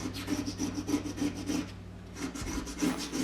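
Baked-on grime is scraped off oven door glass in short repeated rasping strokes, close and fairly loud, with a brief pause near the middle.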